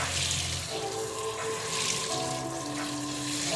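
Hot water runs steadily from a tap into a sink for soaking tie-dyed fabric with Dawn dish soap. The stream is continuous and close, and its pitch shifts slightly as the basin fills.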